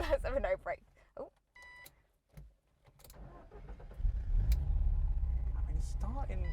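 A Ford Escort engine cranks and catches after standing unused for about twenty years, then settles into a loud, steady idle rumble close by, with brief talk and a few beeps before the start.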